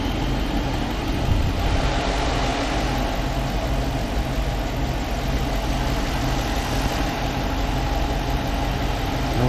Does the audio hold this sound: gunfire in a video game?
no